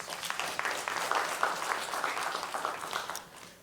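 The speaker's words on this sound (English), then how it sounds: "Give that a round of applause" Applause from the audience at a city press briefing marking Economic Development Week. The dense, steady clapping is fairly faint and distant, goes on for a few seconds and then begins to fade.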